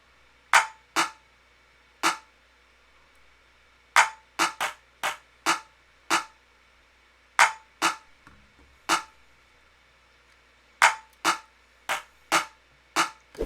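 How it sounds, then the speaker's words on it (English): Several layered clap patterns from an FL Studio 21 jazz beat play together in a busy, irregular rhythm, with bright snappy hits arriving in clusters and short gaps, clear and upfront with no talking. "So this is where I layer the claps."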